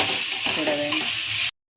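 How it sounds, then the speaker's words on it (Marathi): Onion and tomato sizzle and fry in a pan while being stirred, a steady close crackle that runs without a break for about a second and a half, then cuts off. "आता भाजून घेऊया कांदा टमाटो एकदम मॅच व्हायला पाहिजे"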